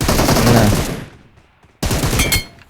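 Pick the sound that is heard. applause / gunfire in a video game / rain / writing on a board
gunfire in a video game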